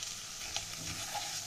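Spice paste with Kashmiri chili, for a Bengali tangra fish curry, sizzles and fries in a pan with a steady hiss, punctuated by a faint scrape of stirring.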